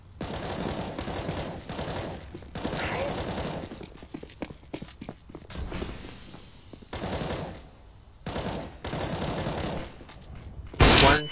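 Rapid gunfire in a CS:GO competitive match comes in repeated dense automatic bursts with short pauses and footsteps between, and a loud final shot, while players talk over the action.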